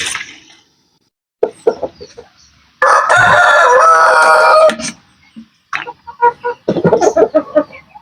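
Chickens cluck and a rooster crows loudly in a long call, with short bursts of fowl sounds before and after, close by.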